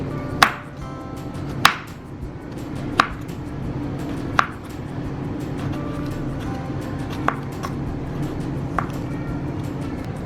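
A knife cuts cucumber lengthwise for a Bangladeshi salad, giving six sharp, separate knocks on a cutting board about every one and a half seconds over a low steady background hum, close and clear.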